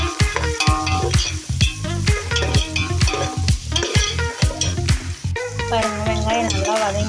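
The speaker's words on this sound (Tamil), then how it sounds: "பாருங்க, வெங்காயம் நல்லா வதங்கிடுச்சு." Onions and green chillies fry in a pan for chicken biryani gravy while a spatula stirs them, giving a constant sizzle broken by rapid, loud scraping and clanking strokes close up.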